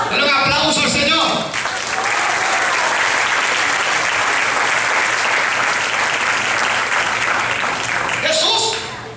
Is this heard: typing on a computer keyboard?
no